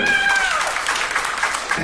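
Applause from an audience for a panel at a gathering, a brief, dense burst of clapping with a thin, gliding tonal sound over the first half.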